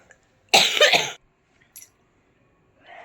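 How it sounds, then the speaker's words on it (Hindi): A single harsh cough up close, followed by a tiny catch of breath and a faint exhale. "इस नेक्स्ट लेवल की खांसी को मैं क्या करूं?"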